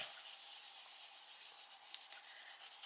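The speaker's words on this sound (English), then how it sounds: "I'm just rubbing it right over the leaves because they're green" A colored pencil rubbing back and forth over paper while coloring leaves in a planner: a steady, rhythmic scratchy stroking, close and fairly quiet, repeating in even strokes.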